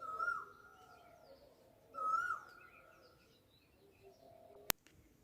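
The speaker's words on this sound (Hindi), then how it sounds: "कोयल और आ गई।" A koel calls outdoors near a home in Pithoragarh, giving two clear rising whistled notes at moderate distance, with faint background chirps and a single sharp click near the end.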